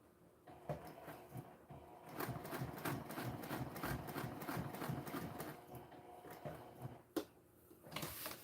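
Sewing machine stitching a sewalong project with long thread tails, a steady mechanical whirring that starts after a quiet moment, runs continuously with brief pauses and a sharp click near the end.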